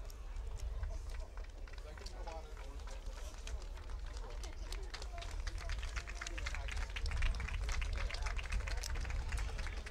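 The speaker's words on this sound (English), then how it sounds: "Round of applause for our player who was" A football stadium crowd applauds an injured player, a steady patter of clapping from many hands at moderate distance that holds evenly and swells slightly toward the end, with voices mixed in.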